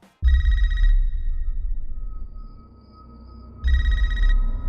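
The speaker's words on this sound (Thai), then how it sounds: "มีเสียงโทรศัพท์ดังขึ้น" A telephone rings at the start of the Scream 5 movie trailer. There are two loud bursts of electronic ringing, separated by a quieter stretch with a faint tone, all over a deep low rumble.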